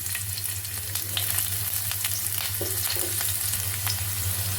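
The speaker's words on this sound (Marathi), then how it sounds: "तेल गरम झालेलं आहे. आपण त्यामध्ये मिरची टाकूया" Green chilies hiss in three spoonfuls of hot cooking oil in a pan, a steady, close, crackling sizzle that holds level throughout, with small pops and spatters scattered across it and no voices.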